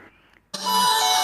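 An imo app incoming-call ringtone bursts from a phone after a faint, quiet lead-in, then rings loud, bright and steady to the end.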